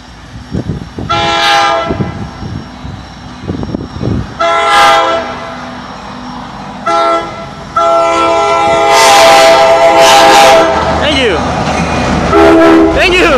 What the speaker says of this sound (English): here comes Tri-Rail southbound.